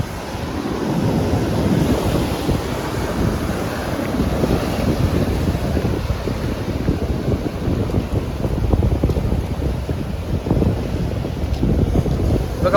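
Sea waves wash steadily at Karde beach, a continuous broad rumble of surf mixed with gusting wind buffeting the microphone, with no voices.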